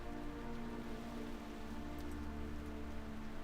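Steady rain hiss from a video game soundtrack, a continuous wash of falling rain filling the whole stretch at an even, moderate level with no talk over it.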